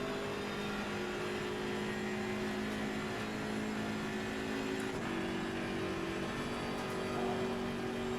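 Race car engine in Assetto Corsa Competizione holding a steady, loud droning whine with a constant pitch throughout, the sound continuous and close with no talk over it.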